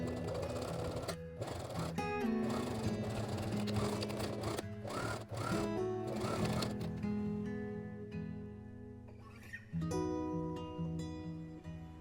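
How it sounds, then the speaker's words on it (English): Sewing machine stitching along a tote bag seam, with steady motor whir broken by short pauses for backstitching, close and fairly loud, no talk. "Sew along this line, remembering to backstitch at the beginning and end."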